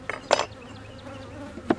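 Honey bees buzz around an open hive, a soft, close hum broken by a few sharp knocks and clunks of hive equipment.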